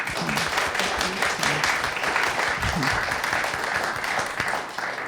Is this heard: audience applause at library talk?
yes